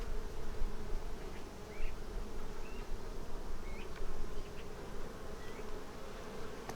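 Dense, steady buzzing of honeybees at an open, crowded hive during an inspection, close and continuous, with individual bees droning past, no talk.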